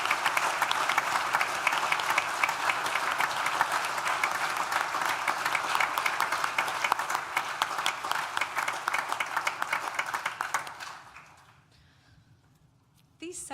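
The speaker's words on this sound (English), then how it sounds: "Please join me now in thanking them with a well-deserved round of applause." A graduation ceremony audience gives a long, dense round of applause in a large hall, sustained and loud for about ten seconds before fading out, followed by a short burst of sound at the end.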